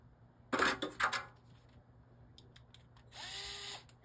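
Short bursts of a power drill whirring, two quick pulls near the start, then a longer steady run near the end with quiet gaps between.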